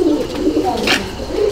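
Teddy pigeons, including Saki Teddy and Royal birds, coo softly in a loft in a low, continuous rolling murmur, heard up close with a brief brighter flutter in the middle.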